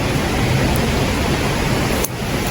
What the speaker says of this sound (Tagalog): Naabutan kami ng ulan na talaga